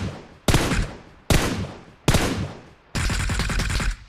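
Automatic weapon fire in the PUBG video game comes in four loud, close bursts of rapid shots separated by short pauses, the last burst longest.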